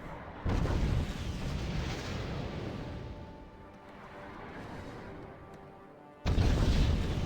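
Missile and artillery fire in the war strategy game Wargame: Red Dragon, a deep sustained rumbling roar that swells, fades gradually, then bursts back loudly near the end, with no voices over it.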